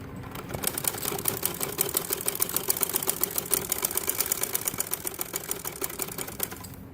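Fast, steady rattling stitch of a sewing machine running continuously while sewing the second leg of Bermuda shorts, close and clear, with no speech.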